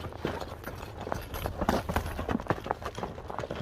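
A horse's hooves clip-clop on ice in a steady, close, uneven rhythm, with a noisy outdoor background and no clear talk.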